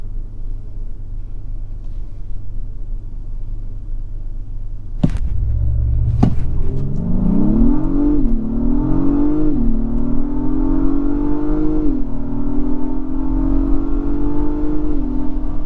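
A 2022 Acura MDX Type S Advanced SUV idles quietly, then its engine roars into hard acceleration, the revs climbing loudly with distinct upshifts and continuing to pull up close.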